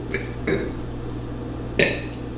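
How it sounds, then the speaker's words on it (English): A person burps after drinking homemade Starbucks-style Frappuccino coffee. A few short, throaty bursts stand out close to the mic, the last one the loudest, over a steady low hum. "if you want to burp like that"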